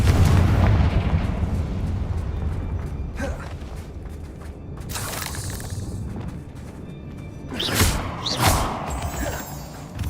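Confringo blasting spell in the Hogwarts Legacy video game, deep booming explosions with crackling bursts, the strongest blasts near the end, over game music and character voices.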